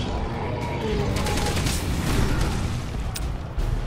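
Dense, continuous gunfire crackles steadily throughout, with bursts layered over a low rumble, loud and busy like a game firefight.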